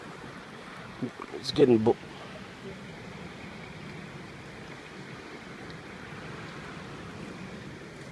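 Cold wind blows outdoors during a February storm watch, a steady broad rushing and buffeting noise that lasts the whole stretch, with someone speaking briefly near the start.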